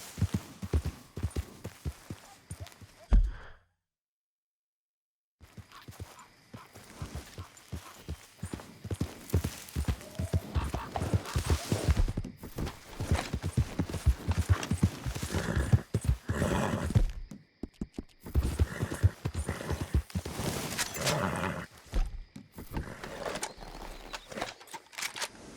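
Horse in the video game Red Dead Redemption 2 gallops with steady, close clip-clop hoofbeats and whinnies, broken by a brief silent gap early on; no talk is heard.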